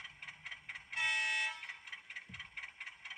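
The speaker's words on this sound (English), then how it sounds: "and then your high-low tone" A brief two-tone high-low horn from a PIKO HO-scale Whitcomb 65-ton model diesel locomotive blares once, loud and bright, over a repeating mechanical chug that continues before and after.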